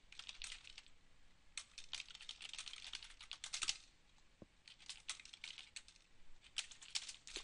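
Typing on a computer keyboard to write a personal email message in business software, rapid bursts of light clicking keystrokes, close and steady with short pauses and one brief louder tap midway.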